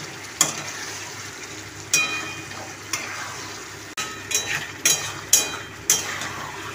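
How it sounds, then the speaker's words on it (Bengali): Chicken frying in spiced oil as it is stirred, quiet sizzle punctuated by a series of sharp scraping stir strokes at irregular intervals, close by. "এরপরে এর মধ্যে আমি চিকেনটা দেব। চিকেনটা দিয়ে ভালো করে কষে নেব।"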